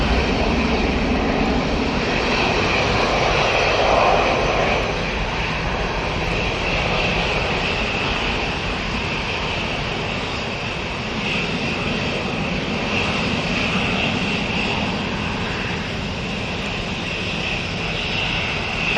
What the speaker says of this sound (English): Emirates 777, not far off turning onto finals now.